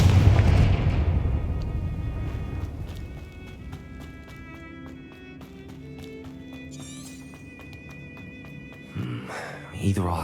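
Fiery spell explosions in the Hogwarts Legacy video game open with a loud booming burst that fades into a decaying rumble, followed by tinkling game effects and a couple of later thumps, with a voice speaking over it.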